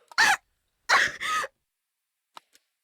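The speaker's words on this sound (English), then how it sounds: "She started coughing suddenly." A few short, harsh coughs from a woman in a video game, in quick succession, close and dry, then silence with a couple of faint clicks.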